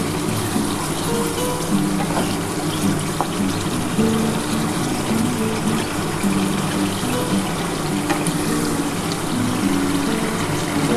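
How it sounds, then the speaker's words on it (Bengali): Water poured into a pan where pabda fish curry is cooking, a steady loud gushing and splashing that holds on throughout with no talk. "আমি অল্প একটু জল দেবো অল্প কিছু একটু জল দিয়ে দিলাম"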